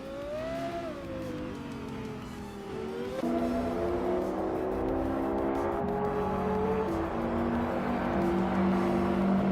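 Race cars run nose to tail in a video game, their engines climbing and shifting pitch as they rev and change gear, a loud continuous roar that swells partway through.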